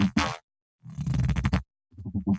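Gritty, heavily textured electronic bass bursts, loud and close with no talk, arriving in a few separated phrases that churn and warble with rough, growling modulation and brief silent gaps between them.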